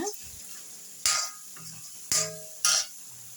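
Chili powder and coriander powder fry with onion and tomato in a pan for egg rice, with a low sizzle broken by a few sharp, loud spoon-against-pan scrapes and clanks.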